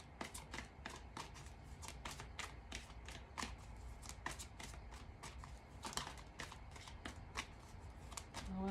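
Tarot cards shuffled steadily for several seconds, a dense run of quick papery riffles and snaps, close and fairly quiet, with no talk over them.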